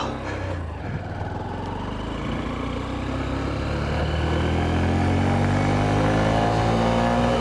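A Honda CB125F motorcycle pulls away, its small single-cylinder engine close and loud, climbing steadily in pitch as it gathers speed through the gears, with no talk.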